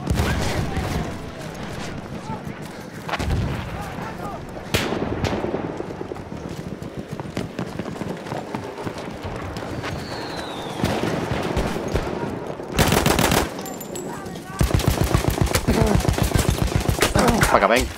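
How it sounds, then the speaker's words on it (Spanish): Grenade blasts and bursts of rifle and machine-gun fire in a Battlefield 1 match, loud and dense, with heavy explosive bursts late on and a player shouting over the battle. "¡Granada!"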